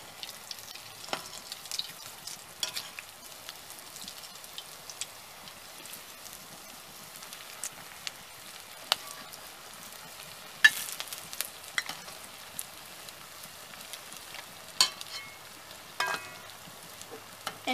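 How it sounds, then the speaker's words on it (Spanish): Yam buñuelos fry in hot oil with a soft, continuous sizzle and scattered little pops and crackles, close but fairly quiet, with no voices. "así sucesivamente vamos a ir friéndolo, todos los buñuelos"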